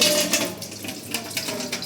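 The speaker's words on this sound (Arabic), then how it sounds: "هنا راح أفتح المي" Water runs from a kitchen tap in an Iraqi home while tea is being prepared, a steady close rushing stream with light clinks of dishes mixed in.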